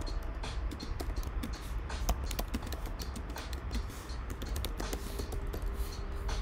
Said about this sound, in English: Let's type again.